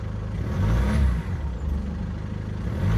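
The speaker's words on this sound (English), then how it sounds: "there's virtually no change with the diesel rattle, as you'll hear here" A Mercedes C-Class W203 diesel engine with a new rear exhaust box runs close by, a steady low clattering rattle with a slight swell in revs midway.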